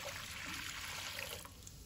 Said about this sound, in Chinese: 接下来起锅倒入清水